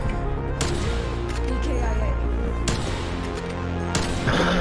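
Sniper rifle fire in Black Ops Cold War, three sharp loud shots spaced about a second apart over dense in-game sound and a voice talking.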